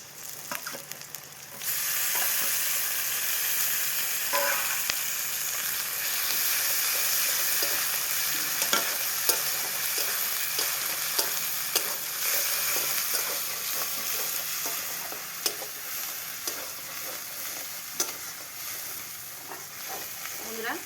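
Ginger-garlic paste from a grinding stone hits lightly browned onions in a pan for crab curry, bursting into a loud, continuous sizzle with scattered scrapes and clicks of stirring.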